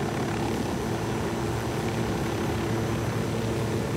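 A helicopter in the video game Ghost Recon Wildlands, a constant loud rotor and engine drone that stays level throughout with no talking over it.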